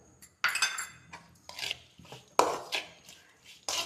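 Lemon pickle being mixed with salt, sharp metallic clinks and scrapes of a spoon against a vessel in several separate bursts with short pauses between, close and fairly quiet.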